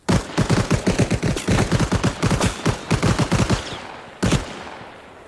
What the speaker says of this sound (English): Did you even try to deploy the machine gun?